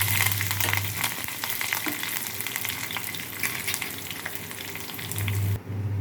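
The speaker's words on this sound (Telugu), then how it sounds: "ఇప్పుడు ఎండుమిర్చి కరివేపాకు వేసుకుందాం" Dried red chillies and curry leaves crackle and sizzle in hot oil with garlic for a tempering, a loud, continuous frying hiss with occasional stirring clatter, cutting off abruptly near the end.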